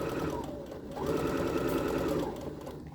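A sewing machine stitching pinned fabric along a vertical seam, a close, loud, rapid motor whir that runs continuously, with a brief dip in speed before surging again, and no voices over it.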